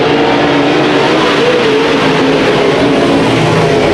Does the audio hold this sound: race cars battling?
yes